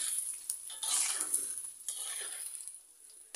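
Soybean chunks fry in hot oil in a pan with a bright, steady sizzle that swells and fades as they are stirred, close and alone.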